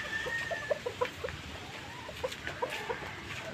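Chickens in a rueda exercise pen give soft, scattered clucks, a dozen or so short calls close by over steady background noise, with no voices.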